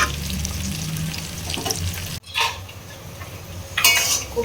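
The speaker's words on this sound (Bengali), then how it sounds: "পটল ভাজাটা আমি দিয়ে দিচ্ছি গরম গরম তেলের মধ্যে" Pointed gourd sizzling in hot oil, a steady crackle with utensil clinks and a brief cut partway through, louder scraping toward the end.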